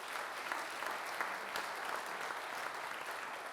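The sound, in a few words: audience applause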